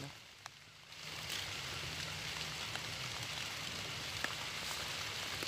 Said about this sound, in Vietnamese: Đang mưa nè, nó các bạn nhìn thấy đó,